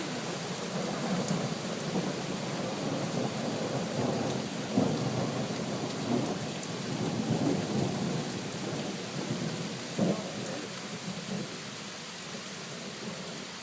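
A thunderstorm with steady rain falling on surfaces and rolling rumbles of thunder swelling and fading throughout, heard from a moderate distance with no voices.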